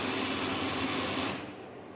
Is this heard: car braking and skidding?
no